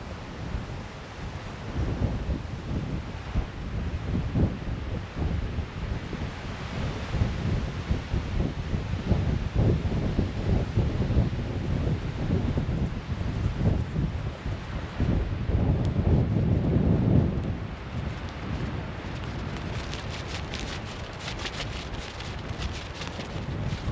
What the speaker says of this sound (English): Super windy, but we like no mosquitoes.